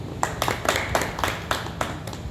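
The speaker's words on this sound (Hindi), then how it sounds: "ताली बजाओ साथ ही।" Audience members in a classroom-style talk clap along in a steady rhythm, about ten sharp claps over a couple of seconds, moderately close, with no speech over them.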